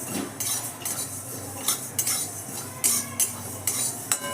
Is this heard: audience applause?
no